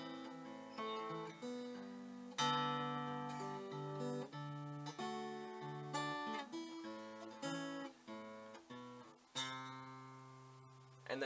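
Guitar strums and picks the chord progression of a song, ringing chords and single notes flowing steadily and fairly quietly, with no talking.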